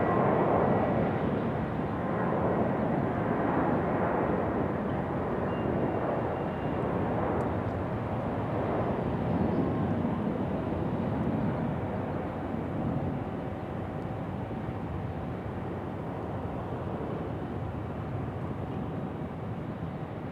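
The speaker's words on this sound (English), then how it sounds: "American A321 headed back to Charlotte." An American Airlines A321 jet departs with a sustained, heavy engine roar that swells and slowly shifts in tone as it climbs away, loud and steady with no talking.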